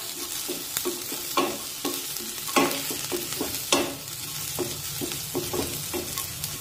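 Garlic, ginger and onion are sautéed in a pan for a green pea curry, giving a steady soft sizzle. A spoon scrapes and taps against the pan in repeated short strokes, fairly close, and no one speaks.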